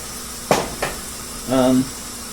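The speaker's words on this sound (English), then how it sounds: "There's a little steam coming out. You can hear it. You can hear the steam." A couple of short hissing bursts of escaping steam from a Fagor Cayenne 6-quart pressure cooker, then a brief low whistling tone, fairly close and moderately loud.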